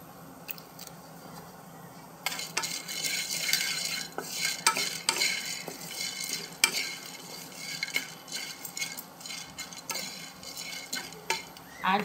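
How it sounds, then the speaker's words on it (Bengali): Chana dal stirred in a pan while garam masala is being made, with steady scraping and rattling, light clinks of a utensil against the pan and a soft sizzle, close and continuous without talk. "এইটা ছোলার ডাল দিচ্ছি"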